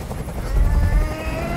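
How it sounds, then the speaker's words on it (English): Helicopter noise in the Detroit: Become Human video game: a loud, steady rotor and engine drone with a deep low rumble that swells slightly in the middle, heard alone without talk. "I can't stand that noise anymore! Tell that helicopter to get out of here!"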